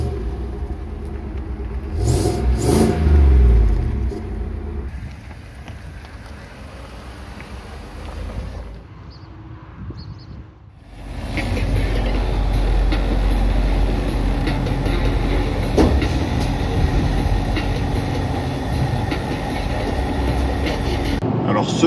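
A GMC Sierra pickup's V8 engine rumbles steadily from inside the cab while driving, with a brief quieter dip before the drone returns loud and continuous, under no speech.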